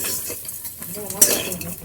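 Sugar is added a little at a time to grated coconut in a pan over very low heat for coconut sandesh, with a spoon scraping and stirring, soft clinks against the metal and one sharper knock near the middle.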